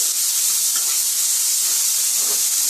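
Onions and peanuts fry in a pan, a loud steady hiss and sizzle that runs unbroken throughout.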